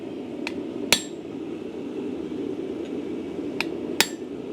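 Steel chisel struck with a hammer to score a line in hot metal on an anvil while forging a bulldog bottle opener: a few sharp metallic taps, two pairs of clinks, close and clear over a steady low workshop hum.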